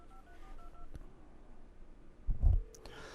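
A quick run of touch-tone dialing beeps, several short even tones in a row, followed by a faint click and a brief muffled thump.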